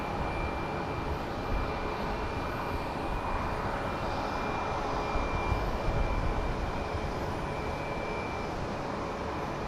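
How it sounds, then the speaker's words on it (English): Airbus A321 airliner departing Phoenix Sky Harbor, a steady broadband jet engine roar that holds loud and continuous throughout, with a faint whine above it. "up next is an A321 departing for Palm Springs"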